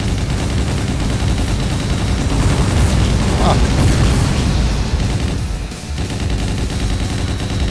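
Continuous dense rumble of explosions and gunfire-like bursts in the Hyper Fighters video game, loud and sustained throughout with a brief dip near the end, with a short voiced exclamation over it.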